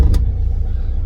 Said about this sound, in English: This car starts and drives, albeit with a broken spring